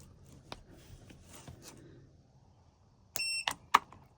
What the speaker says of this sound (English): we hear the beep, which means we've got power